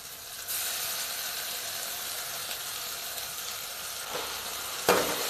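Ginger garlic paste frying with softened onions for mutton gravy gives a loud, continuous sizzle that bursts up as it hits the pan, with a couple of stirring scrapes near the end and no talking.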